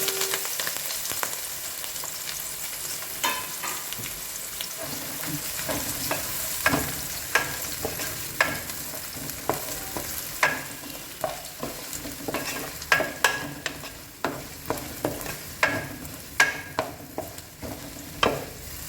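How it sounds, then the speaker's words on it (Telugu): Beans, carrots and green chillies fry in a pan with a steady sizzle, broken by frequent sharp scrapes and clacks of stirring that grow denser later on, close and fairly loud with no talking. "ముందుగా మనం ఇవి బీన్స్ క్యారెట్ పచ్చిమిర్చి ఇవి తరుముకొని పెట్టుకున్నాం కదా వీటిని మనం కుక్ చేసుకుందాం ఫ్రై చేసుకుందాం"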